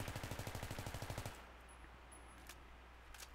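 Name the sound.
M16 rifle with heavy barrel firing a full magazine, video game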